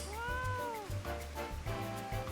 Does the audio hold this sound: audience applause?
no